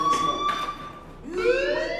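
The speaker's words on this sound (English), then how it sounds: "Hey, do you hear that fire alarm?" A school fire alarm from the video game Life Is Strange sounds as a steady electronic tone with pulsing bursts, then a rising wail that swells near the end, loud and close with no talking.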